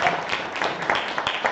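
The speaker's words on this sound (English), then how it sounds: "So let's give them a round of applause for that." Audience applause at a mayoral town hall meeting on redevelopment, a short, moderately loud burst of many hands clapping in a room, with no speech over it.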